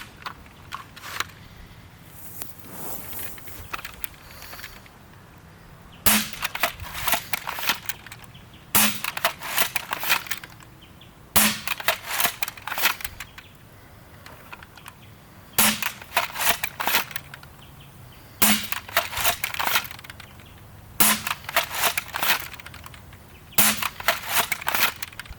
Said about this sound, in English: First, I'll shoot quick darts.